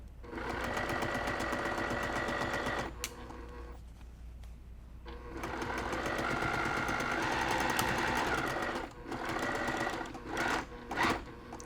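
A sewing machine stitches around a small decorative cross stitch pillow using a quarter-inch foot, running in long steady whirring bursts with brief pauses and a few short stops and starts, heard close.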